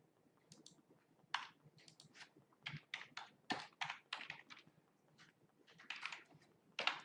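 Fingers typing a web address on a computer keyboard, a quick irregular run of light clicky keystrokes in short bursts, close and clear with no talking.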